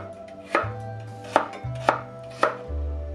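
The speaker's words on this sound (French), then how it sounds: "on coupe l'autre moitié de la carotte en deux dans la longueur" A knife cuts half a carrot into thin slices, giving four distinct thuds on a cutting board at an even, unhurried pace, close by and clear.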